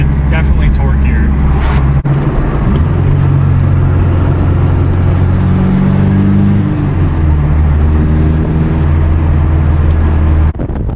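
VW 1.6 turbo diesel swapped into a Volvo 242, revving loud and close with rising and falling engine pitch, a sharp break near the start and talking over it.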